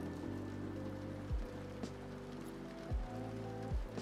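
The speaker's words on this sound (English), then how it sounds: "let's turn our rainy ambience back on, right?" Recorded rain ambience plays back indoors as a steady, close wash of falling rain and patter, with a few low thumps and a faint tonal hum running underneath; nobody speaks.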